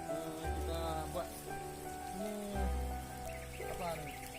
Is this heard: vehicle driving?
no